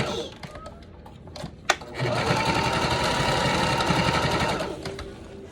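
A sewing machine stitches a fabric wristlet in one steady, close, whirring run of rapid needle clatter lasting a few seconds, preceded by brief handling clicks and a sharp tap.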